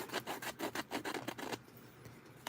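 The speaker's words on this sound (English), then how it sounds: "I like to use my little sanding disc. Just go right along the bottom" Small sanding disc rubs along the edge of paper in quick, rhythmic scratchy strokes, close and soft, about eight passes before fading into quiet.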